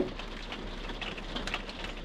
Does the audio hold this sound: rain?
yes